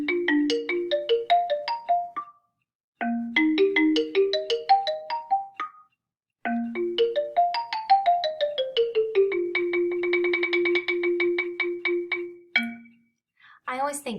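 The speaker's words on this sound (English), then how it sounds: "It's called the xylophone." Bright mallet-struck bars of a xylophone ring out in quick ascending runs, pausing between phrases before a long passage of rapid repeated notes, clear and close with no voices.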